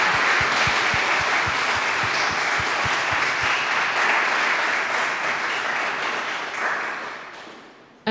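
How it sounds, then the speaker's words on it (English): Sustained audience applause at a talk on artificial intelligence, dense clapping throughout with low thumping beats, tapering toward the end. "Let's give him a big round of applause."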